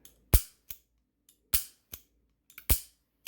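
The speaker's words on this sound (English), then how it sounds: "So most of us will be shooting this gun like this." A Colt Anaconda .44 Magnum revolver with an 8-inch barrel fires three sharp, loud reports spaced about a second apart, each followed by a shorter, fainter crack, with near silence between them.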